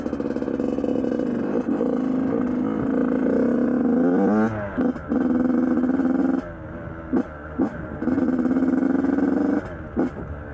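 A small 2006 Yamaha YZ 85 dirt bike engine idles cold while warming up, with a steady buzzing drone broken by a few brief throttle blips and dips; nobody speaks.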